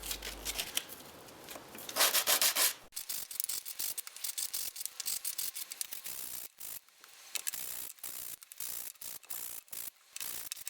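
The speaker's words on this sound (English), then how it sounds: "Sand the edges of all the parts to remove splinters." Hand sanding the edges of wooden mallet parts to remove splinters: a dense, raspy scratching with a brief hissy burst early on, then a steady run of short, rhythmic strokes, close and loud with no talk.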